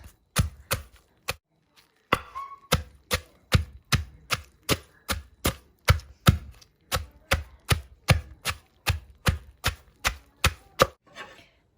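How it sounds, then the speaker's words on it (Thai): A long bean salad pounded in a mortar, sharp steady thuds striking about twice per second for roughly a dozen seconds, close and loud, with only a brief pause near the start. "ก็มาตำเลยจ้าที่นี่ ตำถั่วจ้าแซ่บๆ"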